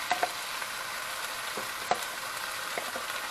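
Tomato sauce being stirred into chicken cacciatore in a hot pan, a quiet steady sizzle with a few light clicks and scrapes of a spoon against the pan.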